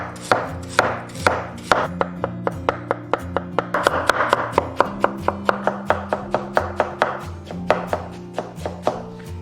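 A radish is chopped into shreds with a knife on a cutting board, giving a steady run of rapid, crisp, close chops that keep going for several seconds with no voices.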